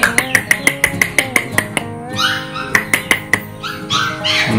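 Phu Quoc dog giving a quick series of close, sharp yips and barks, then a drawn-out whimpering whine, then more barks, with no talking.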